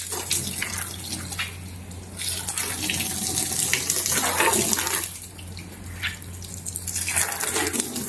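An ordinary garden hose spraying water over a car during a wash, a continuous hissing splash that briefly stops and resumes, close and fairly loud.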